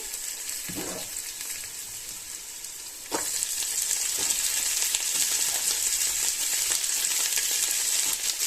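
Onions frying in a pan for pulao give a soft, steady sizzle that suddenly grows louder and denser about a third of the way in, then continues as a bright, constant crackle with no talking.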